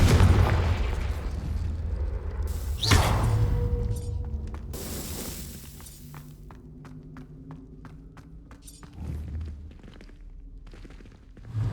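Confringo spell blasts in Hogwarts Legacy burst as a heavy boom, then a sharp crack a few seconds later, followed by scattered crackles and fading rumble with quick footsteps, no talk.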